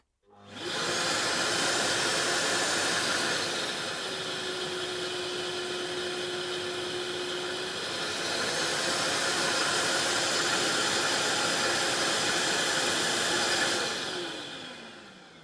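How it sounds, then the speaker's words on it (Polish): A Parkside PWD 30 B1 1500W vacuum cleaner motor whirs loudly and steadily, its pitch dipping for a few seconds midway before rising again, then cutting off at the end. "ten odkurzacz też automatycznie się po prostu włączy"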